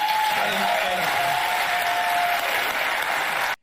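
Audience applause at a political town hall, a thick, sustained burst of clapping from a crowd with a few scattered cheers and a voice rising over it, loud and close, cutting off abruptly at the end.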